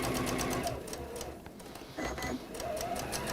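A sewing machine runs close by in fast, steady bursts as quilt rows are stitched together, with a short slowdown and restart midway.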